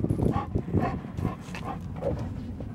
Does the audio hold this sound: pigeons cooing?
no